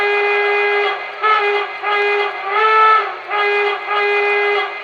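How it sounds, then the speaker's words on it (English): A Lionel PRSL E6 4-4-2 model train's whistle sounds in a series of loud, close, chord-like blasts, four or five in a row with short gaps between them. "Here's the whistle."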